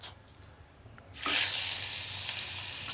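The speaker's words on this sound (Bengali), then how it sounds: "তেল গরম হয়ে গেছে আর এখন দিয়ে দেবো আমি মাছ" Fish head dropped into hot oil in a wok bursts into a loud, steady sizzle that starts abruptly partway through and holds, following a quieter stretch of low kitchen noise.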